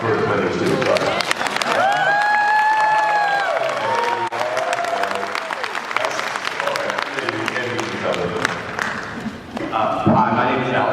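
A Baltimore Comic Con audience claps and cheers loudly at a panel with actor Mike Colter, a sustained dense roar of applause and crowd noise with voices and whoops mixed through it.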